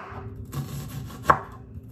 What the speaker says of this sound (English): So I'm cutting the onion.